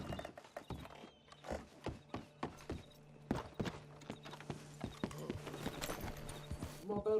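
Horse hooves clip-clop steadily on the ground in Red Dead Redemption 2 online, a close, regular rhythm of sharp hoof strikes that runs throughout with a low ambient hum beneath.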